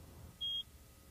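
A single short electronic beep from a 9800DLXT locator transmitter signalling battery status, clean and steady at a mid-high pitch, heard alone against quiet background hiss.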